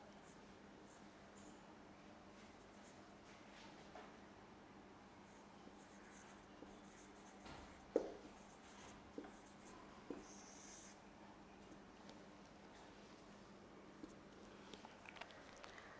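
Faint scratching of pen or chalk writing during a spoken English lesson, a few short scrapes and taps in a quiet room with no one talking.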